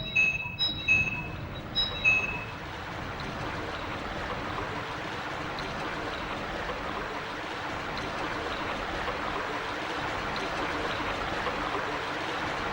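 In the Silent Hill video game, a drainage valve flushes water: a few sharp metallic clanks at the start, then a loud, steady rushing gush of water that continues without pause.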